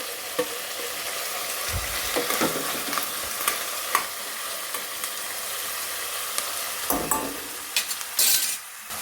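Chopped tomatoes hit softened vegetables sautéing in a pan for pasta, giving a steady close sizzle with occasional stirring scrapes and clinks of a spoon against the pan.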